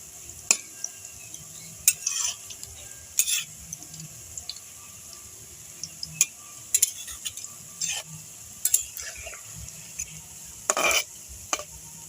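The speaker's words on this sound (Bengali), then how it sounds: "এবার আমি পকোড়াগুলো হালকা নেড়ে দেব।" Rice pakoras fry in hot oil under a soft, steady sizzle, broken by repeated scraping and clinking strokes of a utensil stirring them in the pan. The stirring comes in close, irregular bursts.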